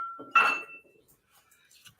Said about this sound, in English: just going to clean this little measuring spoon